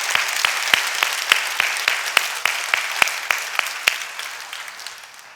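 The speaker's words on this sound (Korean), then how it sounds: "하나님께 영광의 박수 올려드리겠습니다." A church congregation claps together in steady, rhythmic unison, sharp evenly spaced claps over a dense wash of applause that gradually fades toward the end.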